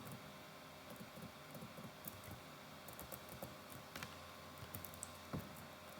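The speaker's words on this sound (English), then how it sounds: "now I'm typing the condition for this" Keys clatter faintly on a computer keyboard as someone types a database query, a loose patter of soft clicks over a low hum, with a couple of louder taps and no voices.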